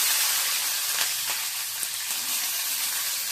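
Green chilies dropped into hot oil with fenugreek seeds give a steady, close hiss of sizzling with a few brief crackles, no voices.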